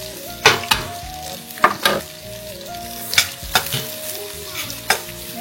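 Onions and ginger-garlic paste sautéing in a pan, a steady sizzle punctuated by repeated sharp scrapes and clinks of a spoon stirring against the pan, fairly close.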